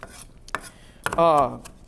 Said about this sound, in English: So the only other thing that goes in here is chili pepper, and I'm chopping this first.